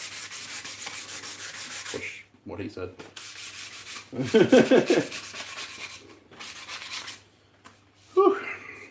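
Hand sanding of wood to remove splinters, a close scratchy rubbing in uneven strokes with pauses, alongside a brief spoken remark and breathy sounds.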